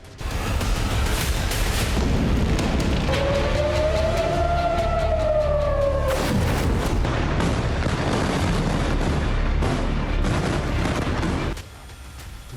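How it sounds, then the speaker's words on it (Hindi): A wailing siren rises and falls over continuous heavy rumbling and booming blasts, loud and dense throughout before cutting off near the end. "बारूदी विस्फोट से बिगड़े हालात।"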